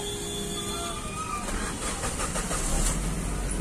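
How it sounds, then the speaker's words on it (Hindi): Maruti Suzuki SX4 car with overheating and erratic RPM, its engine cranking and catching into a rising mechanical roar that grows louder and rougher toward the end, close by and unaccompanied by speech. "गाड़ी स्टार्ट करो"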